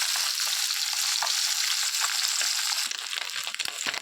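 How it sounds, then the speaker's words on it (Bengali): Small puti fish fry in hot oil, sizzling loudly and continuously, a dense crackling hiss with occasional sharper pops. "মাছগুলো এবার আমি একটু ভালো করে লাল লাল করে কড়া কড়া করে ভেজে নেবো"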